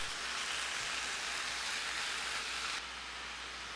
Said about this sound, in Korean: 프라이팬을 달구고 고기를 넣어요.